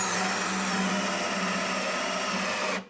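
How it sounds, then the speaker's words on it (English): Bauer drill spinning a two-inch hole saw, a steady loud whirring grind that runs for nearly three seconds before stopping abruptly, with no talk. "Let's give the old hole saw a try."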